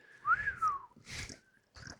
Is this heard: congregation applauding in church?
no